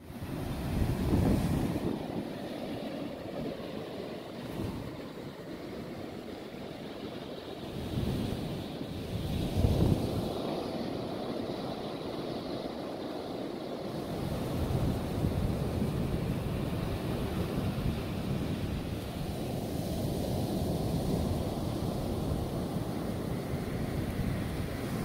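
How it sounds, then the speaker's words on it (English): Waves wash onto a beach under a steady breeze, a continuous broad surf roar with a few louder surges early on and wind rumble on the microphone, no voices. "so we are at the beach"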